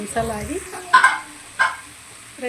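Cluster bean curry being stirred and fried in a pan, with a couple of distinct scraping stirs over a faint sizzle, following a brief stretch of talk.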